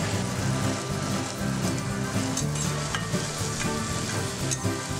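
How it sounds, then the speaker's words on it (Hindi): Sliced tomatoes fry with sugar and salt over a medium flame, giving a dense, continuous crackling sizzle with occasional stirring scrapes, close and fairly loud. "टमाटर को हम थोड़े से चीनी और नमक के साथ मीडियम फ्लेम में थोड़े देर के लिए भून लेंगे"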